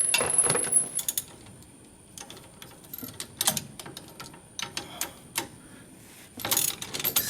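A ratcheting socket wrench works loose a sway bar end link on a Ford Ranger, with bursts of close clicking ratchet strokes separated by short pauses and some metallic handling noise.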